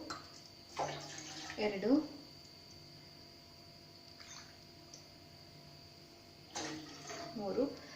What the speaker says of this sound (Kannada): 4 ಗ್ಲಾಸ್ ನೀರನ್ನು ನಾನಿಲ್ಲಿ ಹಾಕ್ತಾ ಇದ್ದೀನಿ